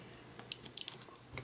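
A racing drone's buzzer, mounted on a 250-size mini quad, gives a single loud, shrill electronic beep lasting about a third of a second, with quiet surroundings before and after.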